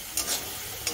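Egg masala fries in a kadai with a dense, steady sizzle and a couple of brief stirring scrapes, close and continuous for one second, with no talking.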